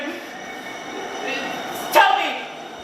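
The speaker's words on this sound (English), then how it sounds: "Train coming, train stop, doors open, train going, silent." Stage sound effect of an underground train pulling in and departing, a steady mechanical rumble that swells to a sharp, loud peak near the end before easing off again.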